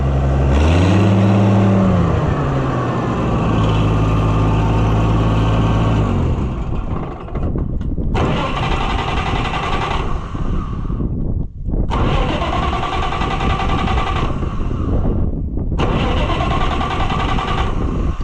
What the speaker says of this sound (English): Weird that it won't start without choke.